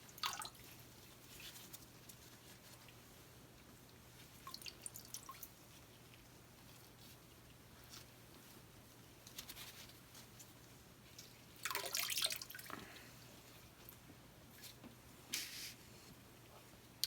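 Faint, sparse drips and small splashes of water while sea sponges are dampened for acrylic painting, with a few brief louder trickles over a quiet background hum.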